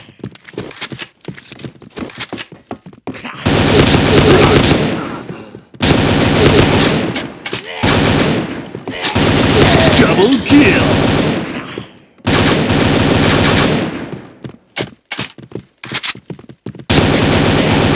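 A double-magazine AK-47 fires in a zombie video game: long, loud, sustained bursts of automatic gunfire alternate with short gaps of clicks and reloading sounds.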